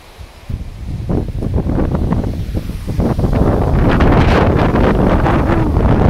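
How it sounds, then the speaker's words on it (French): Strong hurricane-season wind buffets loudly over a dry creek bed, roaring and gusting with a heavy rumble that builds and stays intense throughout. "Alors, il y a énormément de vent."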